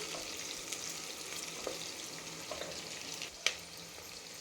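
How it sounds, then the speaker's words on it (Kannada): Onion frying in a pan for a vegetable uppittu with green chillies, giving a steady, fairly quiet sizzle with a few soft stirring clicks and one sharper tap near the end. "ನೆಕ್ಸ್ಟ್ ಈರುಳ್ಳಿ, ಇದು ಜಾಸ್ತಿ ಫ್ರೈ ಆಗೋ ಅವಶ್ಯಕತೆ ಇಲ್ಲ, ಸ್ವಲ್ಪ ಫ್ರೈ ಆದರೆ ಸಾಕು."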